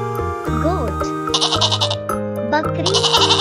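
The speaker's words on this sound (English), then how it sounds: "Goat." A goat bleats in quavering cries over background music, several calls in a row, close and clear.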